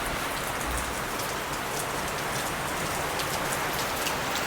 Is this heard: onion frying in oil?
no